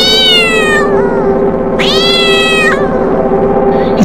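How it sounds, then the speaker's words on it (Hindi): A cat gives two long, drawn-out meows in a horror-story soundscape, loud and close, with a wavering caterwauling tone over a faint background. "बिल्ली और झिंगुर की आवाजें,"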